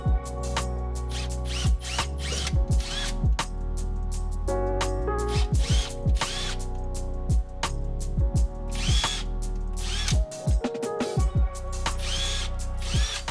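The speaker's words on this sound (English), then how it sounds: "So let me go ahead and drill them out even more" A power drill whirs loudly in repeated bursts, spinning up and stopping as it bores out holes, with brief pauses between runs, while installing M Performance pedals in a BMW F80 M3.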